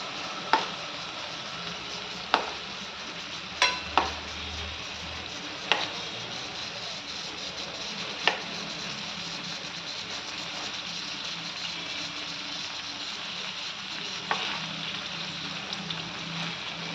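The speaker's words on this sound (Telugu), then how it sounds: "ఇవి వేగుతున్నాయి కదండి బాగా." Stuffed brinjal (guthivankaya) fries in a pan with a soft, constant sizzle, broken by a few sharp pops and clicks scattered through the clip.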